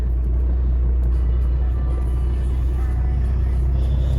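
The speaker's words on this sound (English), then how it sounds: "we're gonna let the truck warm up for a few minutes" A pickup truck engine idles steadily while it warms up on a chilly morning, a constant low rumble close by with no change in pitch and no one talking.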